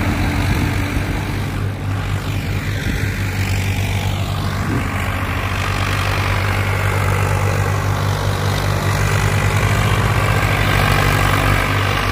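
A Swaraj tractor engine straining under load with a heavy, steady drone that stays loud and unbroken throughout, with no voices.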